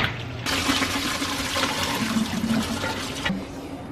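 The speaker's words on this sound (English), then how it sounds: "I just fill it with water and kind of rinse them and drain it" Green beans rinsed under running water in a kitchen, a steady close rush of tap water filling and splashing for a few seconds with no talking.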